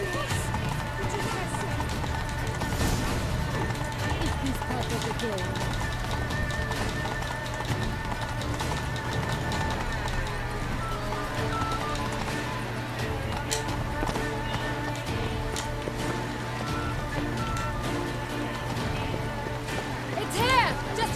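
A horse galloping with a rider in the video game The Witcher 3, with rapid rhythmic hoofbeats running steadily under game music and voices talking throughout.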